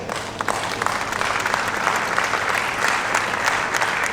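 Steady applause from the audience at a Nigerian House Committee on ICT and Cybersecurity event, a dense, even wash of many hands clapping at moderate distance and continuing throughout without speech.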